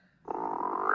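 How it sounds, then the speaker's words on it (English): A single sustained croak-like call from a cartoon frog in a children's animated show starts after a brief quiet moment and holds steady, close and fairly loud, with no talking. "A fully grown frog."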